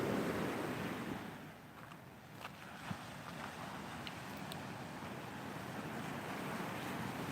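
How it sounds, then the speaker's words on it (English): Steady ocean surf rolls on at a Ghana shoreline, with a sea breeze buffeting the microphone, a broad, continuous wash of noise with no talk. "The air feels good. The ocean breeze."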